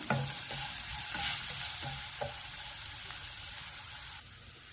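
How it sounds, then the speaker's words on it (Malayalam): Diced potatoes and onions frying in a pan as salt is added, with a steady sizzle throughout and several soft scraping stirs of a spoon, close and moderately loud, no voices. "ഉരുളക്കിഴങ്ങ് സവാള ഫ്രൈ ആയി വരുന്നുണ്ട്. ഉപ്പ് ചേർക്കാണ്. ഇത് നന്നായിട്ട് ഫ്രൈ ചെയ്തെടുക്കണം."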